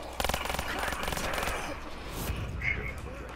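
Rapid machine gun bursts ring out in a Call of Duty Black Ops 3 Zombies match, a dense rattling stream of shots for about two seconds before fading into game noise.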